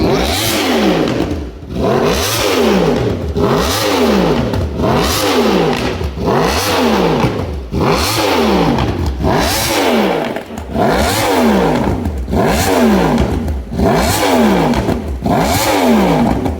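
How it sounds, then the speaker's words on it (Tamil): A motorcycle engine revs hard over and over in a steady rhythm, loud and close, each rev rising and falling. "இந்த பைக் ஸ்டார்ட் பண்ணி"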